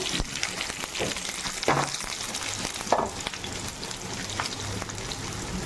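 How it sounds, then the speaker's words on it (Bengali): Onions sizzle and crackle in hot oil, a continuous close frying hiss broken by occasional stirring scrapes. "পেঁয়াজটা একটু ভাজা ভাজা করে নেবো ভালো করে"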